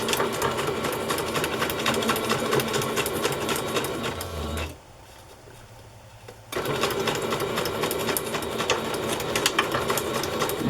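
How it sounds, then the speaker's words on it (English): Sewing machine stitching to gather ribbon, a fast, loud, rapid needle chatter that runs steadily, pauses for about two seconds, then resumes at the same pace. "go slowly enough that you can continue pushing the ribbon up under the foot, and that will just make a messy gather"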